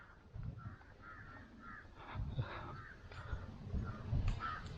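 Crows caw repeatedly at the Vedanthangal bird sanctuary, a run of harsh calls at moderate distance over a low outdoor rumble, with no one talking.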